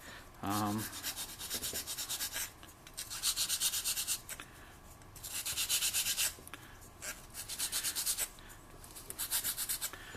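Sanding the rough edges of a PCB board, repeated bursts of dry rubbing strokes in a steady back-and-forth rhythm with short pauses between passes, close and moderately quiet.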